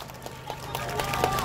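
A crowd at a Seoul mayoral campaign rally in Eunpyeong claps in dense, steady applause that swells slightly over a second and a half.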